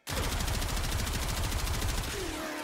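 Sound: Gotva Prime rifle gunfire in video game Warframe

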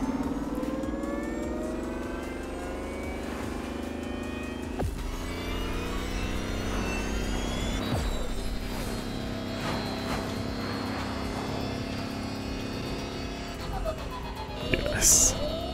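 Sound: vehicle engine sound in video game The Crew Motorfest

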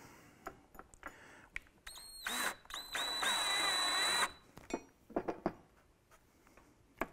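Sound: power drill driving self-tapping screw

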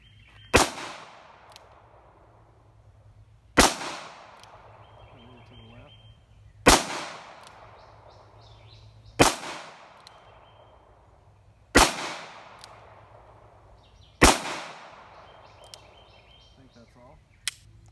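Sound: six revolver shots, .38 Special loads in trimmed .357 Magnum brass

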